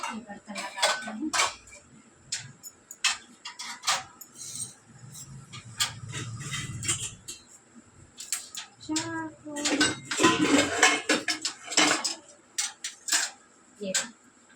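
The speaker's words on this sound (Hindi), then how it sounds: "बर्तन लगाते हैं।" Dishes, pots and utensils clatter and clink as they are put away in a home kitchen, with sharp intermittent metallic knocks and scrapes under scattered talk.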